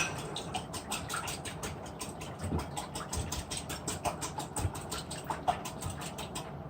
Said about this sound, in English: vanilla, egg whites, milk. Okay, and we'll just whisk that together.